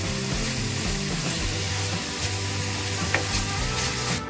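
A sweetened curry sizzles in a frying pan while it is stirred, with close scraping and stirring strokes over a continuous loud fry.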